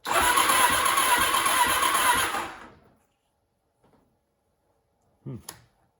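Starter cranking a 1989 Kawasaki Ninja ZX7 engine for a compression test, a loud steady churning for about two and a half seconds that then stops, followed by quiet and a few small clicks.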